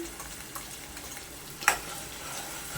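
Chili paste made from soaked chilies stirred as it fries in oil for a spicy Konkani-style prawn masala, a soft steady sizzle with light scraping and one brief sharp clatter midway.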